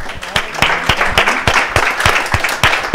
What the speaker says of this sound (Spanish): Voy a pedir que nos paremos, aplaudamos también a Gustavo.